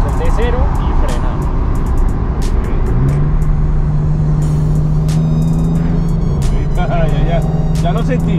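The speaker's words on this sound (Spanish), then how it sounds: "atrás hacemos una prueba de aceleración de cero y frena." A Nissan 370Z accelerates hard from a standstill, its engine note rising and holding under steady road and cabin noise, with someone talking over it.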